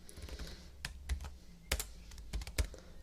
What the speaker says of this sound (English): I'm going to type out a really simple 3-line example now.